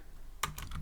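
A short burst of a few quick keystrokes on a computer keyboard while typing Python code, close by and clicking briskly after a quiet start.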